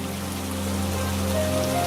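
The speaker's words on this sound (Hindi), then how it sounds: "देखते ही देखते तेज बारिश हो जाती है" Heavy rain in an animated Hindi story pours as a steady, dense hiss beneath sustained musical tones, with no break across the short stretch.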